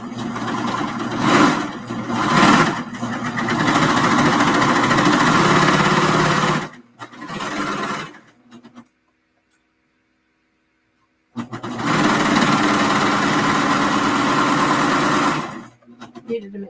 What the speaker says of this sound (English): you can get the same results with the sewing machine or the serger